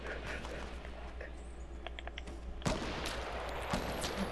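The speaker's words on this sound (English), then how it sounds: "Just keep on shooting at them" Gunfire in the video game Fortnite: sharp, repeated shots crackling over a low steady game rumble, with a louder blast partway through and continued firing afterward.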